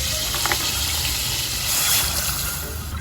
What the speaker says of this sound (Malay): saya tuang air.